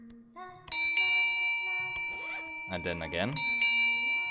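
A bell rings in the video game The Padre, bright sustained chimes struck a few times among game sounds, with someone talking over it.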